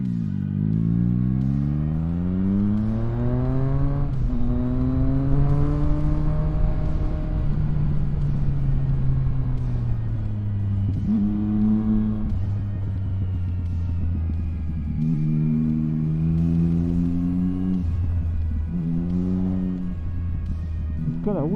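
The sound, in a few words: motorcycle accelerating on a road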